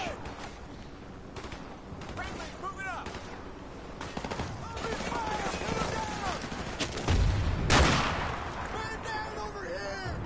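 Repeated gunfire crackles across a video game shooting range, sustained bursts and scattered shots building to a louder blast near the end, with voices speaking over the shooting.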